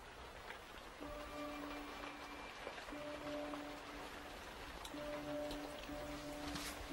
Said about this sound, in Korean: 근데 이렇게 비가 와도 괜찮을까?